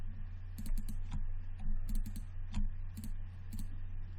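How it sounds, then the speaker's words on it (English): Computer keyboard keys are pressed and clicked during 3D modeling work, about a dozen quick close taps in small irregular bursts over a low steady hum. "hit Q on a keyboard"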